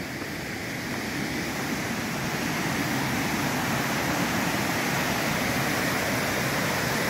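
Cascata da Solitária waterfall in Igrejinha, Rio Grande do Sul, Brazil, where the water drops over several separate falls, giving a steady, loud broadband rush that holds evenly throughout with no voices.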